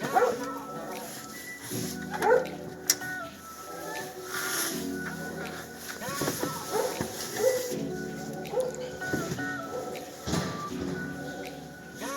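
A dog barks and whimpers intermittently, close by, while people talk almost continuously over it.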